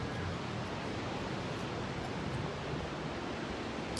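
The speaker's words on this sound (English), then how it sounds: "there's the ocean" Ocean waves make a steady, dense broadband roar, continuous and fairly loud with no distinct breaks or voices.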